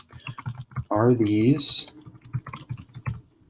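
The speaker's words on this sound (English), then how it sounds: "I'm going to go ahead and start typing the question out first." Quick clicking keystrokes on a computer keyboard while a question is typed into a Google Form, a close, uneven patter that continues under a person speaking.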